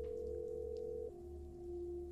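Phone dialing voicemail in the Blair Witch video game: a steady electronic tone drops to a lower pitch partway through, faint and alone over a low hum.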